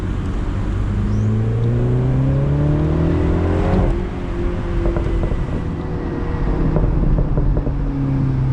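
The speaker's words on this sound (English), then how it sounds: "It's a very easy to handle car, and I could only wish to go faster on these roads." A Mini Cooper JCW Convertible with a 6-speed automatic drives on winding roads, its engine revving up and down through gear changes, loud and close with wind and road noise throughout.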